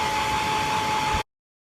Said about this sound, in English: I've got my trusty hairdryer and some dental floss.